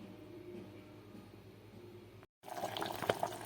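Dal (lentils) boils in a covered pot. A low, quiet simmer breaks off briefly and returns as louder, livelier bubbling with small pops.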